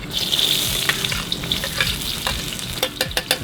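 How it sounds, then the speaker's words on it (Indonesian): Sliced shallots and chili sautéing in a hot pan, a steady close sizzle with bursts of stirring clatter and scraping, no voices. "Hasil irisan bawang dan cabai ditumis sampai harum yo Jo."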